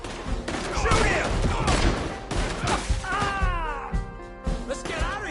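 Gunfire during a Red Dead Redemption 2 shootout, dense bursts of shots over a rumbling game soundtrack, mixed with shouting voices and wailing, screeching animal-like cries toward the end.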